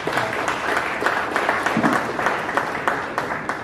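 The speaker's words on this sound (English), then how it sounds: "Can we give him a big round of applause?" A big round of applause from the audience at a Kenyan Muslim awards ceremony, continuous dense clapping with a few sharper claps standing out throughout the short stretch.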